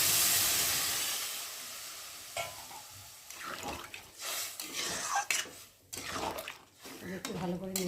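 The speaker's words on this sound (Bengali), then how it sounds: "এখন আমি জল দিয়ে দেবো।" Water poured into spices frying in a pan for a papaya shukto, a loud hissing burst of steam at first that fades into bubbling and stirring with a voice talking over it.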